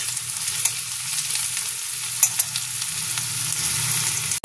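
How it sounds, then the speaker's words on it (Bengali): Ingredients for pasta frying in a pan, a steady close sizzle with a few sharp clicks of stirring, no talking. "একটু ভাজুক, একটু অল্প অল্প ভাজা হবে।"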